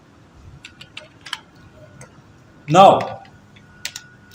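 Someone types on a computer keyboard while entering text into a Word text box, making scattered light clicks at an uneven pace. A single spoken word breaks in partway through.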